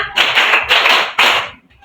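Classroom pupils clap in a rhythmic pattern during an Islamic studies lesson, three loud bursts of rapid overlapping hand claps, each group sustained, ending with a short quieter patter.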